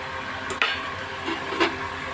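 Onion and spices sauté in hot oil, giving a steady close sizzle broken by a few short scraping stirs of a spoon against the pan.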